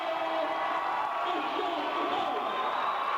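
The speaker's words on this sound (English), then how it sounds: "And the Southwestern Adventist fans finally have something to cheer about" Basketball fans of Southwestern Adventist at a 1995 college game against OBU cheer after a made shot, a steady, dense crowd roar with scattered shouts and whoops throughout.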